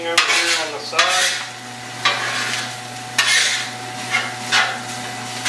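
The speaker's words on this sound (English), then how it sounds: "We're going to go ahead and mix them with the sausage, green peppers and onions." Spatula scraping and stirring eggs with sausage, green peppers and onions in a pan, a string of clattering strokes at a steady rhythm over a soft sizzle, close by with no talking.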